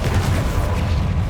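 A Confringo blasting spell detonates in Hogwarts Legacy, a dense, loud, low rumbling boom that fills the whole short moment without any clear break.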